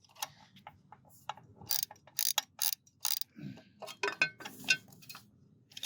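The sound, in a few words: ratchet tightening a bolt during test fitment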